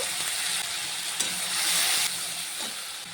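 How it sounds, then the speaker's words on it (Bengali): Dry red chilli, black cumin seeds and ginger-cumin paste sizzle steadily in hot oil for a Bengali prawn and taro curry, a continuous close crackling hiss with no talk. "এই তেলের মধ্যে দিয়ে দেবো একটা শুকনো লঙ্কা, দেব একটু কালো জিরে ফোড়ন, দেব একটু আদা জিরে বাটা।"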